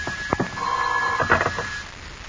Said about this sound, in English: Finally, your nervous pacing is interrupted by the ringing of the telephone.